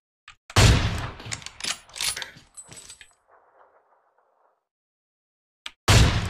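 Gunfire in PUBG Mobile, a few sharp, loud shots with metallic clatter, then a faint mechanical rattle and silence before one last loud burst at the end.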